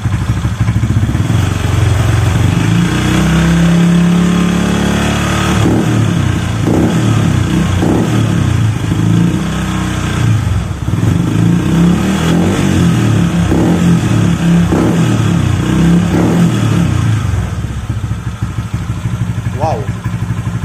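A Honda Vario scooter fitted with a copy CMS exhaust revs repeatedly, its engine rising and falling loudly and up close with a rough clattering note, while people talk over it.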